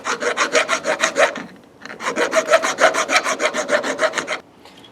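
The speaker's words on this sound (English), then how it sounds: "I'm just gonna sand that down real quick with the file" A metal hand file rasps off casting flashing inside the square nut opening of a pulley part from a vintage air serpentine belt conversion kit, in two runs of quick, even back-and-forth strokes separated by a short pause, close up with no talking.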